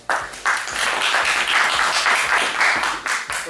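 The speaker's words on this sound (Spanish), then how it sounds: "ganador del próximo concurso cómico, Javier, un aplauso" Audience at a comedy contest applauds the winner with loud, continuous clapping that carries throughout without pause.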